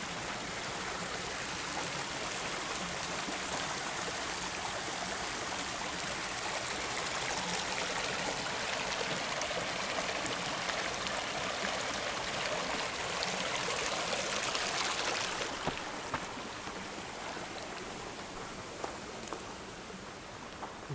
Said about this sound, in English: I'm here at the stream at mile